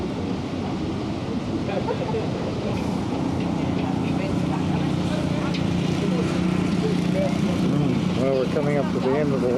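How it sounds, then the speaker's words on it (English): A boat squeezes into a crowded canal lock in Holland, its engine giving a steady churning rumble mixed with water and wind noise, with voices talking faintly in the background. "Now we have to leave room for this other boat that they're going to try to squeeze in here."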